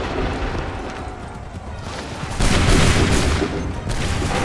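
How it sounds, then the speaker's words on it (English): Musket volleys in Assassin's Creed III roar in loud, ragged bursts of massed gunfire, with a heavier volley partway through and more shots following, up close and without talk. "Open fire. Make ready. Hold fire. Open fire."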